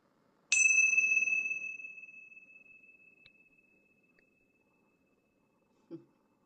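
A meditation bell is struck once and its clear tone rings out, fading slowly over several seconds in a quiet room, followed by a faint soft knock.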